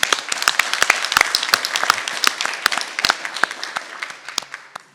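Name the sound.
audience applause at board meeting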